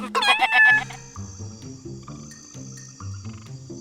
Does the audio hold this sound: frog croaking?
yes